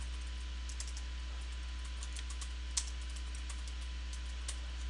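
Keys tapped on a computer keyboard while entering commands such as ipconfig and ping, scattered light clicks over a steady low electrical hum, fairly faint and without speech.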